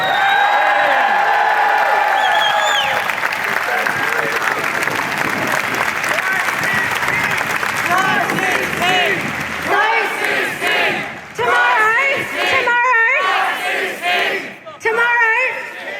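A large protest crowd in New South Wales, rallying against a Greens bill on abortions in Christian hospitals, roars and cheers loudly and continuously, then the cheering thins out as voices speak over the fading crowd.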